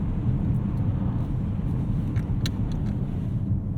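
A 2023 BMW 760i xDrive cruising on a road with a rear window open, giving a steady loud wind and road rumble inside the cabin with a few faint higher whooshes.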